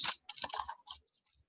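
Scissors snip through paper masks in a few quick, close cutting bursts, each crisp rustle clustered tightly before a short pause and one last faint snip.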